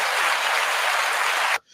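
A loud, dense burst of audience applause for nail technicians fills the space evenly, then cuts off abruptly near the end.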